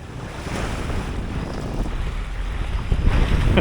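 Wind and waves around a sailboat at sea off the UK coast near Cawsand Bay, a continuous roar of gusting wind buffeting the microphone over rushing water, loud and close, swelling toward the end.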